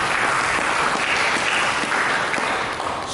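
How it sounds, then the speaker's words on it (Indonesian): A church congregation applauds during a sermon. The clapping is dense and even, sustained for a few seconds, filling the room at a steady loud level. "Berikan tepuk tangan dulu."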